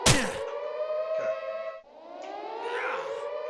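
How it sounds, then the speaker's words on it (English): A civil-defense-style siren wails in a level built in Unreal Engine 4, its pitch rising and falling in long sweeps after a sharp thud at the start, fairly loud with no talk. "So we hear the siren."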